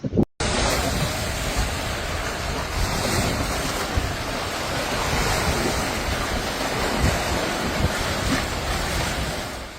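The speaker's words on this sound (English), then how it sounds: "There's a good flow going out the river." A flooded river in the Western Cape rushes strongly past, a continuous broadband roar of churning water mixed with gusty wind buffeting the microphone, with no voices.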